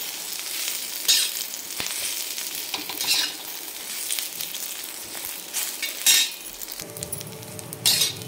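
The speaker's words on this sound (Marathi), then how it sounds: "म्हणजे थोडंफार कच्चा राहिलेला असेल कांदा तर तो पण आपला चांगला भाजला जातो. खोबरा पण आतपर्यंत छान भाजतो." Chopped onion and grated coconut dry-roasting in a pan for black masala, a steady close sizzle broken by repeated scraping stirs of a spatula, with a few sharper clinks against the metal near the end.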